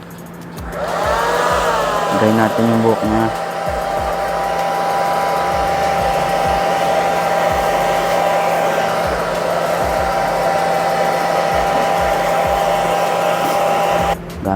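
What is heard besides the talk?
hair dryer blowing hair during a haircut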